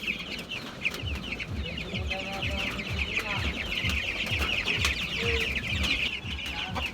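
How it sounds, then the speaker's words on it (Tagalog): A flock of chickens clucks and murmurs close by in a busy, continuous chorus, with a faint voice now and then under the birds. "Yung mga manok."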